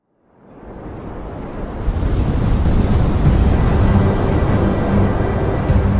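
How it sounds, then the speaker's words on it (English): Big ocean waves break off the coast of Portugal, a deep, continuous roar of surf that swells up from quiet in the first half-second and stays loud and dense, with wind buffeting the microphone. "This is Portugal, home to some of the biggest waves in the world."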